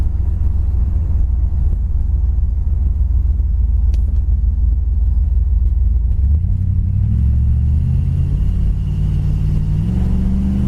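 A 1970 Plymouth Satellite 318 V8 drones steadily, then drops into kickdown and pulls hard, its engine note climbing loud and near as it accelerates, with no talking.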